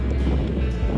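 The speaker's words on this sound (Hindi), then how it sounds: "यहाँ पे वैंकूवर में बहुत ज्यादा हवा चलती है" Strong outdoor wind in Vancouver on a sunny day, a constant low rumbling gust pressing against the microphone, loud and unbroken for the whole moment.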